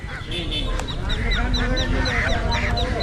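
A crowd of ducks at a rural Bangladeshi market honks and quacks nonstop up close, with repeated raspy calls layered over background chatter.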